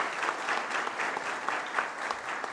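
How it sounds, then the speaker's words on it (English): Crowd at an all-star draft showcase applauding the event organizers: even, continuous clapping at moderate distance, steady in level with no talk over it. "how about a big round of applause for everybody that put this event together"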